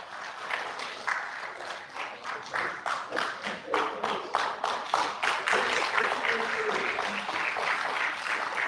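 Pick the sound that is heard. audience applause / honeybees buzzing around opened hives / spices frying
audience applause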